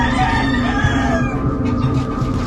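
Gray-breed gamefowl roosters crow and cluck in pens at a farm, a close, loud drawn-out crow over a bed of overlapping clucks and background birds.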